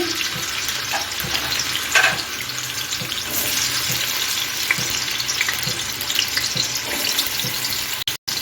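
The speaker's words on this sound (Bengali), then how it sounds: "আমি গাজরটা ভেজে নিচ্ছি" Carrots fry in a pan for a flattened-rice khichuri, making a loud, continuous close-up sizzle with occasional soft stirring knocks throughout.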